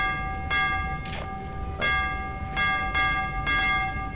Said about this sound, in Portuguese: tô tocando o sino